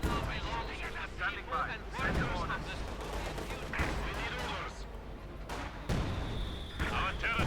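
Company of Heroes 2 battle sounds: repeated artillery blasts and bursts of gunfire boom and crackle, with a voice talking over the fighting.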